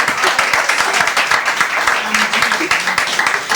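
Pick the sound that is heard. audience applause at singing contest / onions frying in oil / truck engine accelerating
audience applause at singing contest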